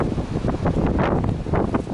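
Gusty wind buffets the microphone outdoors beside a 2012 Sertao motorcycle, a loud, rumbling, uneven rush that swells and dips over two seconds.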